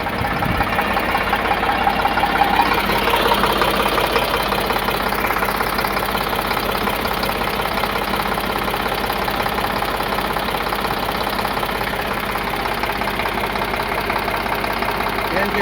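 A 2016 Eicher 548 tractor engine idles close by with a steady, even diesel knock and rumble that holds unchanged throughout, with no voices.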